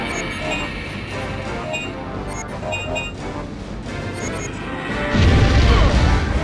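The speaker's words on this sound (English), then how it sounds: "Please stop smashing me with your head." Heavy smashing blows from a dinosaur's head striking the player in Dino Crisis 2, set in dense game noise and music, ending in a louder crashing burst near the close.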